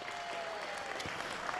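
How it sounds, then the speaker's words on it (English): Audience applause for young people from Chicago at a CPS Choose to Change showcase: a dense, steady wash of clapping from a crowd, sustained at even loudness throughout the short stretch. "Round of applause for the young people from Chicago."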